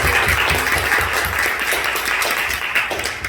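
A church congregation at a Friday prayer meeting breaks into steady, dense applause, many hands clapping together in a reverberant hall for a few seconds.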